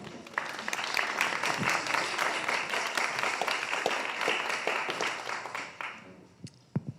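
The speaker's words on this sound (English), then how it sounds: "can you please join me in giving them a massive round of applause?" Audience applause following the introduction of guests at a COP27 hopes-and-fears gathering: a dense, steady wash of clapping sustained for about six seconds, then thinning to a few scattered claps.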